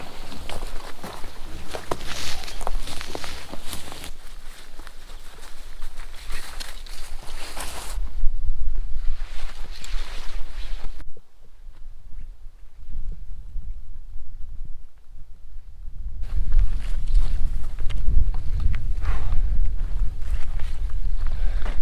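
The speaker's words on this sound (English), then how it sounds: "Thank God for that wind" Strong wind buffets the microphone during a hike through the Swedish wilderness of Glaskogen Nature Reserve, loud rumbling gusts that drop away into a brief quiet stretch before surging back, with faint steps beneath.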